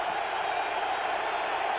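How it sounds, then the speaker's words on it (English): A packed football stadium crowd roars at the 2004 Wild Card game between the Rams and Seahawks, a steady broad wash of noise that holds for the whole stretch, with a commentator talking over it. "And listen to the crowd."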